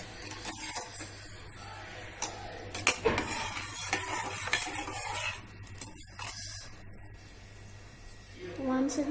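Utensil stirring coriander leaves, green chilies and salt in a pot, giving steady close scraping and clinking against metal with a faint background hum.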